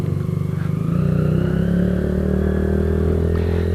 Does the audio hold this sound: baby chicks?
no